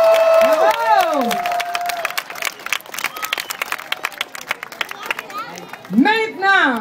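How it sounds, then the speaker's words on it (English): A crowd bursts into lively applause, dense clapping mixed with cheers and whoops, with an excited voice calling out over it. "Je pense que ça vaut un tonnerre d'applaudissements!"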